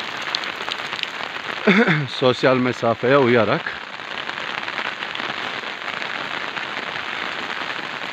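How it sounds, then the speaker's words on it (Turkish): Steady rain falls over a village in Çüngüş, Diyarbakır, a dense even hiss throughout, with someone speaking briefly near the start over it. "bugün full yağmur yağdı"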